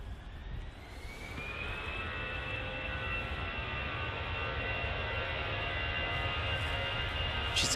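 A Lufthansa jet departing Manchester Airport produces a steady, loud roar with a rising whine that builds and holds throughout, heard from a distance at night.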